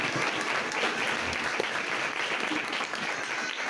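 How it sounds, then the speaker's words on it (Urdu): Loud, dense applause from a church congregation during a Christmas Urdu sermon, a sustained close wash of many hands clapping at even intensity throughout, with no voices over it. "زوردار تالیاں"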